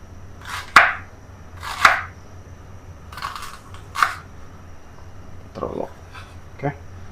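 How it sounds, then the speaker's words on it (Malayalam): A knife chops raw chicken into chunks on a board for soy chicken pasta, giving about six sharp, close, separate chops spaced unevenly, with quiet kitchen hum between strikes. "അതൊക്കെ പോലെ ആണ് ഒരു ചങ്ക്സ് ആയിട്ട് കട്ട് ചെയ്യാം കേട്ടോ"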